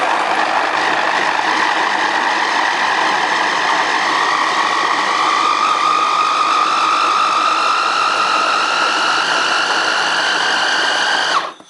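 RAF 800 W blender-chopper on first speed chopping tomatoes, a loud steady motor whine with a slowly rising pitch that holds for about eleven seconds, then cuts off abruptly.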